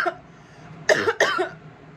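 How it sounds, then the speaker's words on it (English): Two sharp coughs in quick succession from a person recovering from coronavirus, close and fairly loud, after a brief quieter breath. "I still have a cough"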